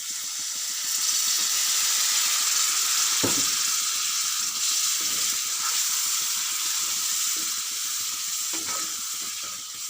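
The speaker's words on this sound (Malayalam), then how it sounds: "മസാലയൊക്കെ ഇട്ട് വഴറ്റി ഇനി ആവശ്യത്തിന് കുറച്ച് വെള്ളം, ചാറുണ്ടാകുന്ന കുറച്ച് വെള്ളം ഒഴിക്കുന്നുണ്ട്." Steady loud sizzling and hissing as water is poured into frying masala in a hot pan, with a few brief bursts and scraping stirs, continuous throughout with no talking.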